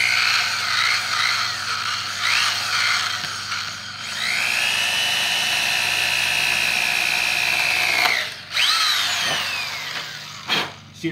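A power drill bores a pilot hole through a broken exhaust manifold bolt, its steady high metallic whine holding close and loud for several seconds, then dropping off, restarting in short bursts and stopping.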